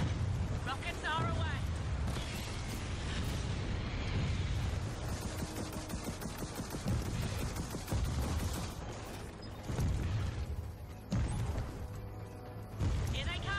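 Rocket explosions in the game Gears of War 4, heavy booms and rumbling blasts that follow one another over a loud, continuous battle mix, with voices speaking over the din.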